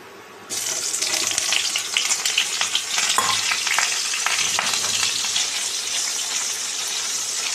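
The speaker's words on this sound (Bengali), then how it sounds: "এইবারে সেই তেলটার মধ্যে আমরা অ্যাড করব বেগুন" Eggplant pieces dropped into hot oil with lightly fried fennel seeds, setting off a sudden loud sizzle that continues as a steady, close frying crackle with occasional stirring, no talking.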